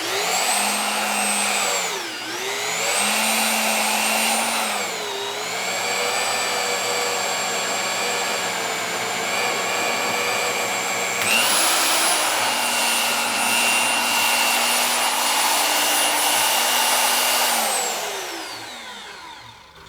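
A VEVOR ZT-45H 1450W magnetic drill cuts with a hollow annular cutter, its motor whining steadily close to the mic, pitch dipping under load several times, rising after eleven seconds, then winding down at the end.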